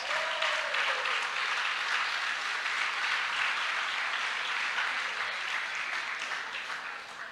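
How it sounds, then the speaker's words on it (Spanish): Sustained applause from a crowd at a general church-style assembly, dense and steady throughout before tapering slightly near the end. "¡Aplausos!"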